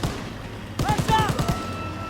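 Rapid bursts of automatic gunfire in a World War II video game, a quick volley of shots over a continuous background rumble with ringing tones.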